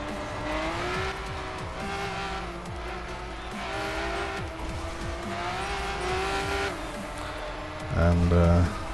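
Alfa Romeo 4C racing in The Crew's elimination PvP mode, a steady engine drone with shifting pitch and occasional tire squeal, loud and continuous under someone talking, ending in a sharper burst.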